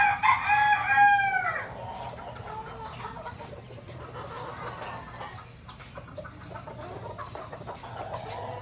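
A white kelso cross gamecock crows once loudly and close, a strained drawn-out call lasting over a second, followed by faint clucks and light farmyard background.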